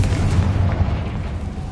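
A Confringo blasting curse goes off in Hogwarts Legacy: a deep, rumbling explosion booms loud and close, its low roar sustained and slowly settling, with no voices.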